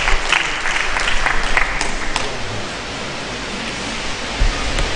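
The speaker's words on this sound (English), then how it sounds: "please can we give another round of applause for our guest lecturer" Loud, sustained applause from the audience at a university public lecture and law clinic opening, honouring the guest lecturer, a thick continuous roar of clapping with a few sharper claps near the start.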